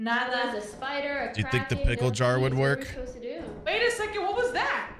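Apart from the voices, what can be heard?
No distinct noise like a dog, phone or traffic.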